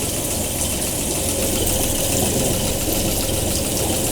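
A Honda 50 outboard boat motor, under repair for an oil leak and water in the gear housing, runs steadily with a loud, even mechanical drone and slight knocking, close and uninterrupted.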